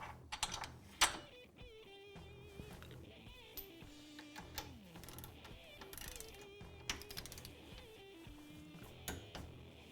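New fasteners are threaded and torqued on the brake caliper of a Can-Am Maverick X3, heard as a close, quiet ratchet clicking in quick runs with some metallic clinks between them.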